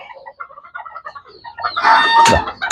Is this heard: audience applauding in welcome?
no